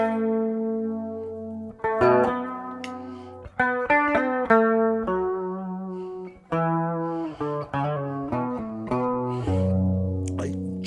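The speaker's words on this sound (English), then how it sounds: "bit more chorus, more reverb, less volume, more tone, a bit twangier." Vintage Gibson SG electric guitar run through chorus and reverb, played as sustained chords and single notes with a slightly distorted, shimmering tone that rings out clearly with no talking.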